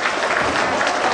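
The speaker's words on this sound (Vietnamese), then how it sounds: "Chúng ta một tràng vỗ tay đi" At a reunion of former Phan Bội Châu Phan Thiết students, a hall full of people claps together in a dense, even round of applause, loud and close throughout.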